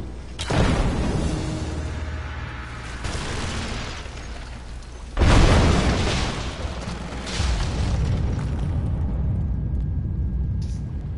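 Greek fire vessels burst in a Lara Croft video game, several booming explosions with rumbling debris, one loud close blast in the middle, followed by crackling fire, no talk.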